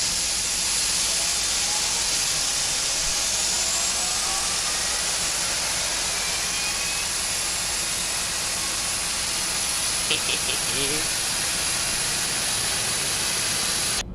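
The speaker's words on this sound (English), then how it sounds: "Right, starting engine number 4. Starting engine 4." Boeing 747-200 number 4 engine spooling up during start in a flight simulator, a steady loud broadband hiss and whine that holds evenly throughout, with a brief cluster of clicks near the end.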